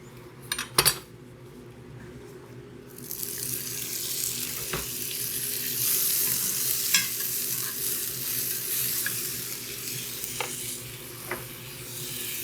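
Butter cubes going into a hot pan for Beyond Sausage meatballs, a few sharp clacks and then a rising, steady sizzle with occasional clinks, alone and fairly close.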